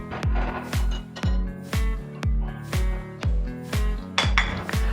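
Gluten-free chocolate oat pancake batter is mixed in a bowl, a spoon knocking against the sides in a steady rhythm of about ten firm, close clunks with a ringing tail.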